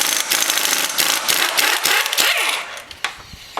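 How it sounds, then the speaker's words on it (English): An impact wrench loosens engine mount bolts on a 1.4L turbo Chevy Cruze, loud close rattling bursts of hammering that stop and restart several times over a few seconds, with a metallic clink near the end. "Again, I'm just using the impact wrench because it's quicker and easier."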